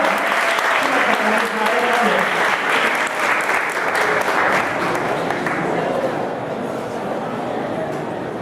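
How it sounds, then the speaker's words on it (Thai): Loud, sustained audience applause at a stage event welcoming a teacher from Cambodia, dense clapping with crowd noise that eases slightly toward the end. "ขอเสียงปรบมือด้วยนะ"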